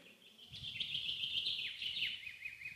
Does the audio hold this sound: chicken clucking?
no